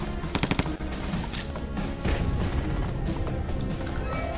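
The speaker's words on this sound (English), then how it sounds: "Suppress them with gunfire." Machine gun fire in the Bakery Girl video game opens with a quick burst of sharp, close shots, followed by ongoing rattling gunfire and crashing impacts in a dense, loud battle scene.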